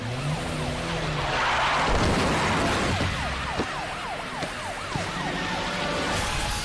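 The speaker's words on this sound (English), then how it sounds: "I heard tires squealing" A car's tires squeal and skid across a hazardous wet road amid rushing traffic, a long loud smear of noise with repeated sharp chirping squeals, no voices present.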